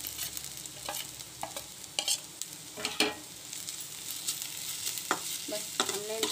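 Potatoes and chopped vegetables stir-fry in a pan, a continuous bright sizzle broken by repeated scraping strokes of a spatula at an uneven pace, close and fairly loud.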